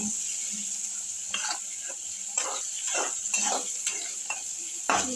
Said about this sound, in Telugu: ఇంత లోపలే టమాటోస్ని కూడా వేసేసుకున్నాం. అన్నీ నీట్గా మనకి ఫ్రై అయ్యి జ్యూస్ కూడా వచ్చేంత వరకు ఫ్రై చేసుకోవాలి.